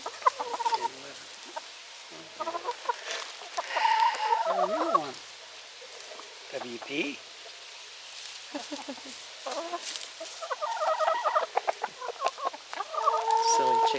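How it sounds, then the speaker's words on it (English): Chickens cluck in short bursts near and far, with a few sharper squawks among them and soft outdoor background noise. "Oh, is that little chicken?"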